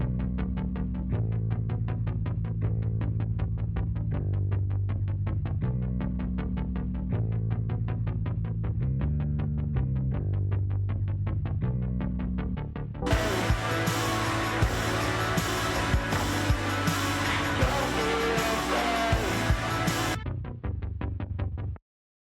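A song mix with a distorted, chorused synth bass builds under a steady throbbing low end, then bursts into a much brighter, dense full-band section for several seconds before dropping back and ending abruptly.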